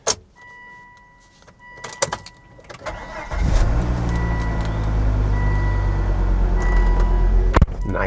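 A high-mileage 2.5T P2 Volvo XC90 goes through a sequence of clicks, electric whirs and chimes, then its engine cranks and catches at about three seconds, settling into a close, steady idle.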